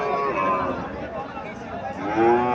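A Nepali or Sahiwal bull calf moos at the Mirshanni cattle market in Cumilla, its drawn-out lowing blending with voices and market chatter.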